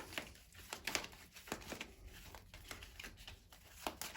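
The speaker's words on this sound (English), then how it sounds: "I'm just going to shuffle these cards first of all" Rapid riffling and flicking of a tarot card deck, crisp papery bursts repeating in quick irregular shuffles, close and fairly quiet.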